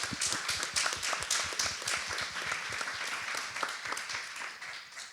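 An audience applauds a panel with steady, dense clapping that holds at an even level for several seconds, the individual hand claps blending into a continuous wash.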